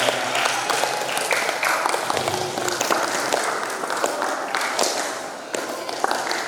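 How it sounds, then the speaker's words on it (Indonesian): Audience at a public Islamic lecture on teaching methods and curriculum applauding together, a dense steady wash of hand claps with a few sharper taps, filling the whole stretch at fairly close range. "Tepuk tangan semuanya."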